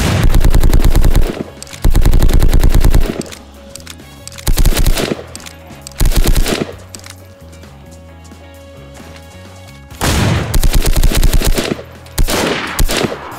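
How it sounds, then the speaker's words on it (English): Loud automatic gunfire in the game DayZ, several sustained close bursts separated by short pauses, with quieter shots and faint game ambience between them. "I shot him! I think I got him!"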